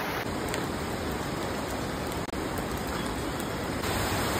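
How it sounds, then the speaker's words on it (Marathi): Heavy monsoon rain pours steadily on the road to Marleshwar temple in Konkan, a dense, even roar of water with no break and no voices. "इकडे खूप जोरात पाऊस चालू झाला आहे"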